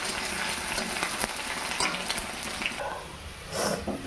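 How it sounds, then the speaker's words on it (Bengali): Chopped onions fry in a pan until reddish while cooking a desi chicken dish, giving a steady, close sizzle with occasional stirring scrapes and a brief watery rush near the end. "এখন ভালো করে পেঁয়াজ দিয়ে লাল লাল করে ভেজে নেব।"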